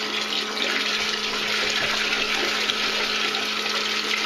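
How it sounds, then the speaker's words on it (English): Clean water being poured into the bowl of a Thetford Curve 550E portable toilet, a steady, loud rushing splash that runs unbroken throughout with no talking. "We'll just dump it into the toilet."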